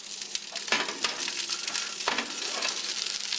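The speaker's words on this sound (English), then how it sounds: "Like sizzling fish." Fish sizzles steadily in a frying pan, a continuous crackling hiss with small pops and soft clinks, fairly quiet and close with no voices over it.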